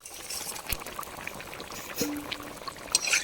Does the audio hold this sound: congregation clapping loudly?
no